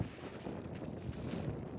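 Strong wind buffets the microphone beside Dhumba Lake in Mustang, a steady, close roar of gusts with no voices.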